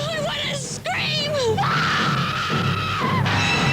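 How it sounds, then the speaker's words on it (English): Screaming in a 1990 film trailer: a woman's shrill, wavering shrieks rise and fall over a dramatic music bed, loud and close, ending in a long sustained scream. "I want to scream!"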